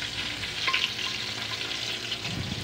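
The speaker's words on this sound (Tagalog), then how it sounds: "Lalagay na natin ang ilagay na ang bawang dyan. Gigisa na." Garlic sizzles and fries in a hot pan for mussel tinola, a steady close crackling hiss with light stirring scrapes and no talk.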